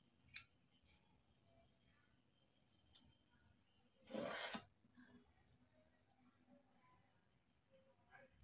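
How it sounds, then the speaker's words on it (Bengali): A knife peels the skin off a large bottle gourd in a kitchen: two short, faint scraping strokes, then one longer, louder rasp, with quiet pauses between them. "প্রথমে আমি লাউটা কেটে খোসা ছাড়িয়ে নিচ্ছি।"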